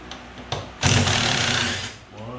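A cordless impact driver with a 3/8 socket spins a bolt off a Whirlpool Cabrio washing machine, a loud high whir lasting just over a second that rises quickly and then winds down, with quieter clicks and handling noises before it.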